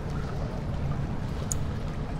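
Steady, low rushing of water flowing through dark sewer tunnels in the horror game Amnesia: The Dark Descent, a continuous murmur with no voices over it.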